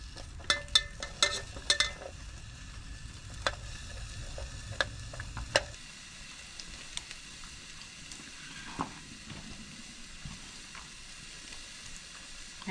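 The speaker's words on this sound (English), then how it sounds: "Sizzling already." A steady hiss of food frying in a pan, with sharp scraping clicks of stirring in the first half, then a quieter continuous sizzle.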